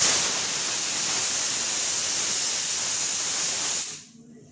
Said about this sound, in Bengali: এই যে সিটি পড়ছে তার জন্য থেমে বলছি কথাটা